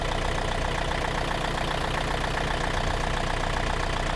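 A Yanmar YM351A 51-horsepower diesel tractor from 2023, nearly new with about 100 hours of use, idles in a steady, smooth, loud drone with an even knocking rhythm close by and no voices.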